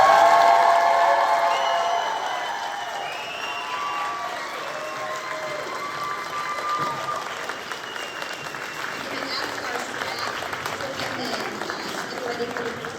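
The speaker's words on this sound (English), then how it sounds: "you're going to turn your tassel and we're going to cheer." Graduation ceremony crowd at a high school applauds and cheers loudly, loudest at the start and then settling into sustained steady clapping with scattered whoops.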